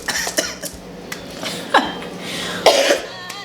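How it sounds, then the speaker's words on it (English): A couple of rough coughs break through steady room noise, one midway and a louder one near the end. "Sorry, I have this cough."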